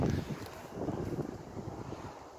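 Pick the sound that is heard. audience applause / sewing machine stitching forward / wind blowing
wind blowing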